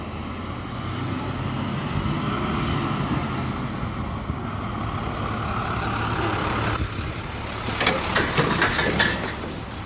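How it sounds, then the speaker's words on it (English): A vehicle rolls past on a sidewalk, a steady low rumble of engine and tyres holding close for several seconds, then a rougher, louder stretch of rattling near the end; no one speaks. "There's a vehicle on the sidewalk. Gotta wait for it to go past."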